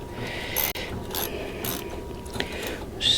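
A ratchet loosens an exhaust bolt with a captive nut on a Kawasaki GTR 1000 motorcycle, making a steady, close run of dense clicking that continues for a few seconds with only a brief break.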